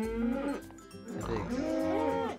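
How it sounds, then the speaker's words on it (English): Cattle in a farming video game give two long, drawn-out moos, one after another, loud and close with a rising and falling tone. "Ooh, and cows."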